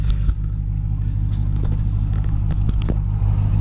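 A Dodge Durango SRT Hellcat drives along with its supercharged engine holding a steady, loud droning whine and low rumble from inside the cabin, with a few faint clicks on top.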